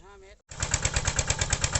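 A 9.5-horsepower engine drives a stainless steel water pump with an 8-inch intake and 6-inch outlet. It starts after a brief voice and runs as a loud, steady, rapidly pulsing chug.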